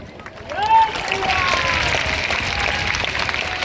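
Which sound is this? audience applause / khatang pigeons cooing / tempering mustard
audience applause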